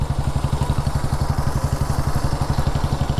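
Hero Xpulse motorcycle engine, a rapid, even low-pitched thumping pulse like a close single-cylinder idle or slow run, steady and loud throughout.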